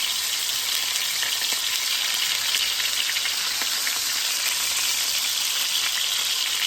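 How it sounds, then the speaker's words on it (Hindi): Two shish kabab skewers fry in hot oil in a pan, giving a loud, continuous close sizzle with faint crackles and pops all the way through. "दो दो सीखें रख के पका लेंगे इसे।"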